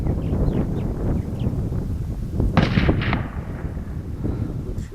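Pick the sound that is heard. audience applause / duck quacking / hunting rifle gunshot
hunting rifle gunshot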